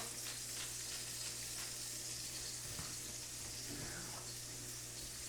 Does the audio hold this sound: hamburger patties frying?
yes